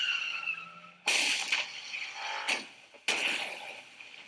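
A car skids into a pond in a dramatic TV scene: sharp tire squeals and rushing bursts come in three abrupt waves over a faint background tone, loud and close.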